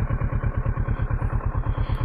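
Motorcycle engine chugging at low revs with a steady, even pulse while the rider makes a U-turn on a narrow mountain road; close and continuous, with no talk over it.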